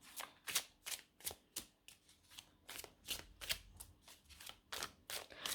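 Tarot cards being shuffled and drawn by hand, a quick run of crisp riffling and slapping bursts repeating roughly every half second, close and quiet with no talk.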